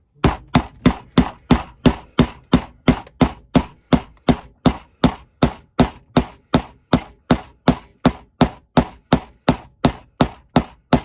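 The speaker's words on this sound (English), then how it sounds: "I'm using a dead blow hammer." Steady, evenly spaced dead blow hammer blows strike metal while reassembling a Johnson F7B-9 outboard raw water pump, about three per second, close and loud, each a dull thud with a short ring.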